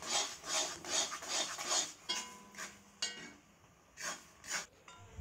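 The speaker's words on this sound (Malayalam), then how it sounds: "അടിയിലൊന്നും പിടിക്കരുത്, ശ്രദ്ധിച്ച് തന്നെ ഇളക്കുക." Thick jackfruit paste (chakka varattiyathu), seasoned with dry ginger and cardamom powder, is stirred in a pan with rhythmic scraping strokes, about six or seven of them, quiet and close.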